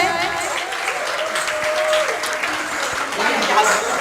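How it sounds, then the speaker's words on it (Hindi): An audience claps at a Mahesh Navmi community celebration, a steady crowd applause running for several seconds while a voice and faint tonal sounds come through underneath. "भाई जोरदार तालियां हो जाए"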